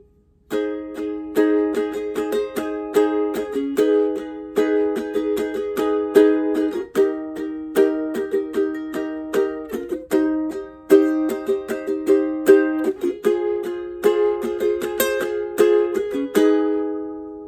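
Ukulele strumming the pre-chorus chords of a song in a steady rhythm, the bright plucked strings changing harmony every few beats, close and clear with no voices.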